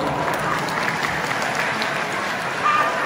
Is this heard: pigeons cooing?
no